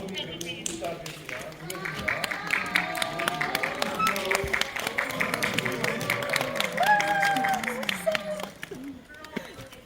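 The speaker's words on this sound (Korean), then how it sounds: "큰 박수 부탁드립니다." A cinema audience claps and cheers as a film director and actors walk in for a stage greeting. Scattered applause mixes with chatter, high excited voices and shuffling movement, moderately loud and sustained throughout.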